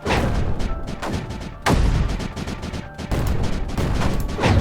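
Mortar fire in the strategy video game Creeper World 4, dense rumbling booms and crashing bursts that overlap continuously, with sharp loud impacts standing out at intervals, loud and close.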